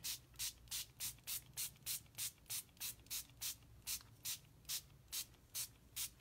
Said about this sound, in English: I'm going to spray it one more time.